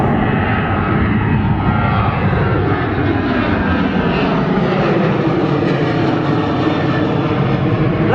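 A large airplane passes close overhead at a plane-spotting site, a loud continuous roar of jet engines that fills the whole stretch and rumbles steadily with no talk.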